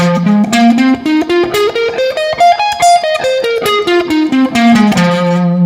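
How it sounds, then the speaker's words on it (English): Electric guitar runs the fifth shape of the pentatonic scale up and back down in quick, even single notes, loud and close with a lightly driven tone. "This is the 5th shape of the pentatonic scale"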